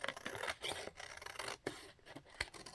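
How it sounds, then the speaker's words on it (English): Scissors trimming the edges off a sheet of paper for a sensory journal, a close, soft run of rustling snips and papery scraping, quiet and continuous with small pauses. "cut the edges off of it."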